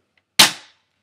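Magazine released from a Matrix M14 airsoft rifle: a single sharp, loud click-snap with a short decaying tail, isolated in otherwise quiet surroundings.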